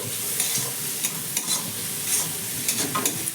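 Mixed vegetables with sweet potato, dusted with turmeric, are stirred and fried uncovered in a pan over a medium gas flame: a steady close sizzle broken by repeated scraping strokes of a spatula, with no voices.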